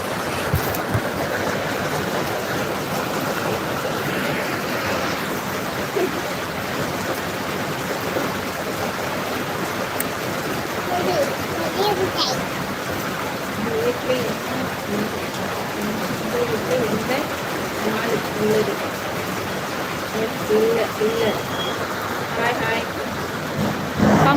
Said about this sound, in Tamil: கேட்ட சாத்திட்டு மழை பெய்யுது.